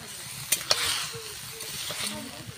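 Fish frying in a pan of oil in a home kitchen, with a steady close sizzle and a couple of sharp spattering pops as the pieces go in, then a continuous hiss.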